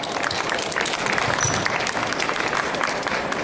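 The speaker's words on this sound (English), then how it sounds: "Give those people a round of applause." Audience at a hypnosis event for chronic pain breaking into steady applause, a dense patter of many hands clapping throughout, with a faint voice underneath.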